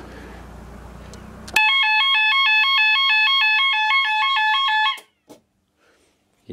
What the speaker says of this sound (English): the sounder is quite loud, but I'm actually wearing extra hearing protection for it